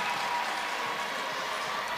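A college gymnastics meet crowd, Penn State at Michigan State, applauding and cheering in a steady, dense roar after a routine finishing with a double layout dismount.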